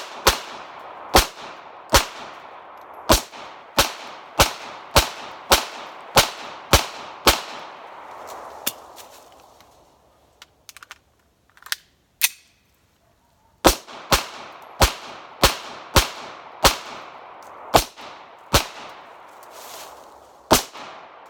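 A Beretta 92FS 9mm pistol fires about a dozen sharp, evenly spaced shots, pauses briefly with a few quieter sounds, then fires roughly nine more in a steady rhythm, loud and close at an outdoor range.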